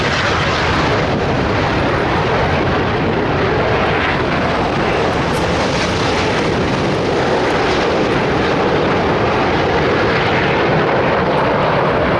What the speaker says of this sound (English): Red 4 and 5 will rapidly join up with the front 3 aircraft, forming a V shape.